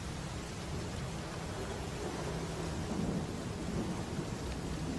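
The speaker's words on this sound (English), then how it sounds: "It's the rain and effects" Rain and thunder sound effects from a Zelda: Echoes of Wisdom video game trailer form a steady, dense wash of rainfall with a low rumbling undertone throughout.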